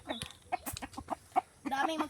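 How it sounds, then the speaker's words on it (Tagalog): A pet fighting rooster on a farm gives a quick run of short clucks, close and moderately loud, ending in a longer burst of calls. "binigyan na ni Mike yung alaga nating manok"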